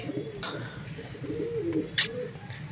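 Pigeons coo softly and repeatedly close by while feeding on scattered grain, low throaty calls rolling under a faint background hum, with one brief sharp noise near the end.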